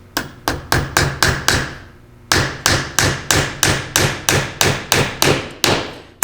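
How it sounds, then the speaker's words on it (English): Repeated sharp hammer blows driving a nail straight in, steady and evenly spaced, a brief pause, then another run of about a dozen strikes, loud and close. "if I drive this nail straight in, I should be okay"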